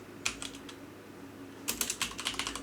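Typing on a computer keyboard while writing 3D scene code; two quick bursts of light key clicks close by, separated by a short pause, over a low background hum.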